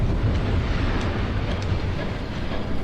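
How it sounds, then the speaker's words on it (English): A train rumbles in Batman: The Telltale Series, a steady low heavy roar of rail cars that holds at constant loudness throughout. "There's a train coming."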